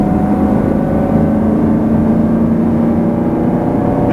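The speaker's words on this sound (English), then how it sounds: "the sound of this engine could just put me to sleep" A 2020 Chevrolet Camaro 2SS V8 with a 10-speed automatic drones steadily while cruising slowly, a low continuous engine hum heard from inside the car with no voices.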